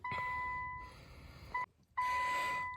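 Steady electronic warning tones from a 2017 Infiniti Q50 3.0T sound in a workshop: one long beep, a short chirp, then another long beep after a brief silence, all fairly faint.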